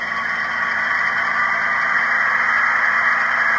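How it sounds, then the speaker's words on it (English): A GE ES44AC model locomotive sound decoder runs its dynamic braking sound, a steady hissing roar with an even whine layered over low engine rumble, unbroken and close. "Do the dynamic brake."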